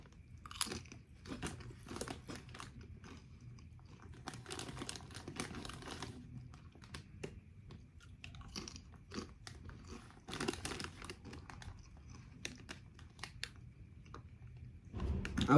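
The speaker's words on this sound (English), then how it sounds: "These are salted tropical heat potato chips." Salted Tropical Heat potato chips from Kenya are crunched and chewed close to the microphone, with repeated sharp crisp bites, grinding chews and occasional bag crinkling in a quiet room.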